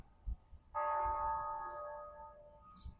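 A single bell tone rings once on a long driving trip, striking clearly and then fading slowly over a couple of seconds against quiet low rumble.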